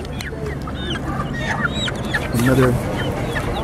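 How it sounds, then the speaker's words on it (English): Chickens at a busy market in Antsirabe, Madagascar, give scattered clucks and squawks among crowd noise, with one louder call near the end and a voice briefly speaking. "There's some chickens here."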